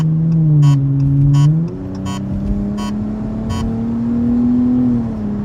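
A 2018 Dodge Challenger SXT with a Magnaflow exhaust and resonator delete revs under load, its deep droning exhaust rising steadily in pitch, loud and close, with faint rhythmic ticking above.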